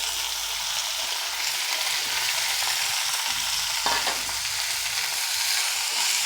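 Pokla leafy greens with green chillies, turmeric and coriander powder sautéing in hot oil, giving a steady, close sizzle with brief stirring scrapes throughout.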